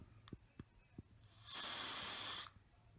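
A few soft clicks, then a single steady hiss of a spray bottle lasting about a second, close and quiet.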